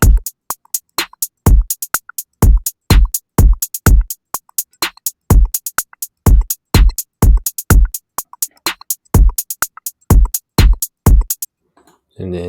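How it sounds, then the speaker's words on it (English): Trap drum pattern built in Soundation with no open hi-hat, loud and close: punchy kicks, snare or clap hits and quick closed hi-hat ticks in a steady, busy groove. "Here are all the drums except for the open hi-hat."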